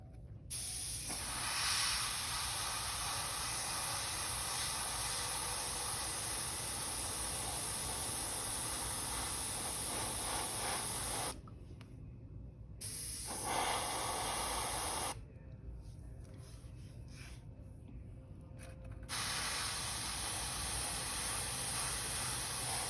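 An airbrush or spray gun sprays paint onto miniature wing membranes with a long, steady, close hiss that cuts off briefly twice before resuming.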